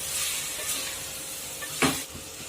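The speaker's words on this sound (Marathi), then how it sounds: "तुपामध्ये छान असं थोडस गोल्डन कलर येईपर्यंत सोनेरी रंगावर भाजून घेऊया आपण" Sweet potato roasting in ghee until golden: a steady, moderately loud frying hiss with a single sharper scrape of a spoon against the pan near the end.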